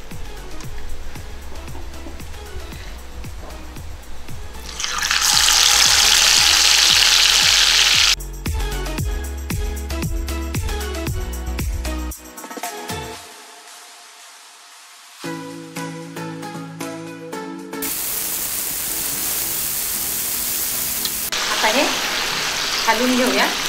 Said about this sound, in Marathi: हे मॅरिनेट झालेले पीसेस आहेत. आपण आता तेलामध्ये